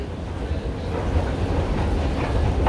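A Stockholm metro train runs with a steady, loud low rumble and rolling noise, continuous throughout with no clear talk over it.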